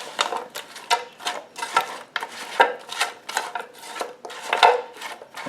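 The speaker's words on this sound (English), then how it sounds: "we'll just use my silicone tongs to" Silicone tongs toss raw chicken leg quarters coated in jerk wing sauce inside a Cosori dual-basket air fryer, giving a run of soft, uneven clicks and wet scrapes that repeat through the stretch with no one talking.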